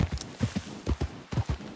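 Horse hooves clip-clopping in Red Dead Redemption 2, a fast, even run of close, hollow hoof knocks at a steady walking rhythm, heard alone without talk.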